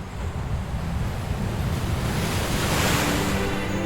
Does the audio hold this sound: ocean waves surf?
yes